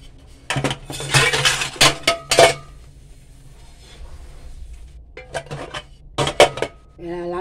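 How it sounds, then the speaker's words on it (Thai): Dishes, pots and cutlery washed by hand at a sink, with close, loud clattering and metallic clinks coming in busy bursts, then a quieter stretch before more knocking and scraping. "ดูยายล้างจานกัน"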